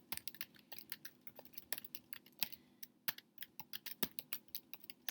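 Typing on a computer keyboard, with rapid irregular clicky keystrokes that come in bursts, close and fairly quiet, with no voices.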